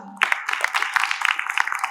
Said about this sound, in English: Everybody, please give a big round of applause to Raga